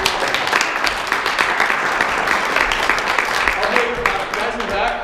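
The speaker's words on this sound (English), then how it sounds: "give a round of applause," Audience applause at a live talk, a sustained wash of hand claps filling the room for the whole stretch at steady, fairly loud volume, with some voices mixed in among the clapping.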